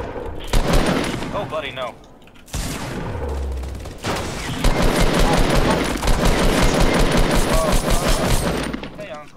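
Rapid bursts of gunfire fill a Fortnite squad match, loud and nearly continuous with dense volleys crackling through the game's other noise, while players talk excitedly over it.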